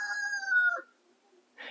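A free-range rooster crows once, close and clear, a long falling call that breaks off abruptly, followed by brief quiet and a short rustle.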